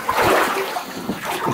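Water splashes and sloshes as someone wades through a flooded abandoned weapons-manufacturing tunnel, close churning and dribbling noises against the echoing underground space.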